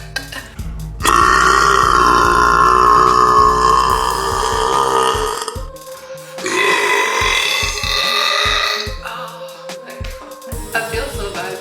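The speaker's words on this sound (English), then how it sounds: "Don't say anything, just burp after me." A girl burps loudly and at length, two long drawn-out belches with a brief gap between them, close and alone, followed by quieter sounds.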